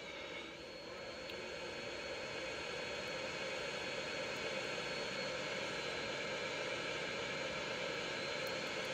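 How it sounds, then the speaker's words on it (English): A propeller airplane engine in GTA San Andreas drones steadily and loudly throughout, a constant broadband roar with no talking. "I'll just take a plane."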